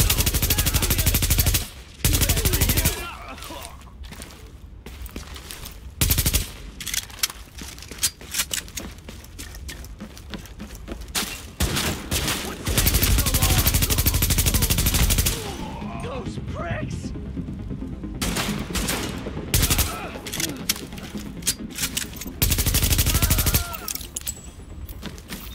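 Bursts of machine-gun fire in The Division, loud rapid volleys broken by brief pauses, mixed with crashing impacts and intermittent spoken game radio callouts.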